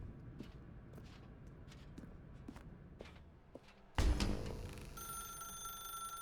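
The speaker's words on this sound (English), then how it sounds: "Now pick up the phone." Telephone ringing in The Stanley Parable: Ultra Deluxe video game, a bright electronic ring that starts suddenly partway through, sustained and moderately loud after a stretch of quiet footstep-like taps.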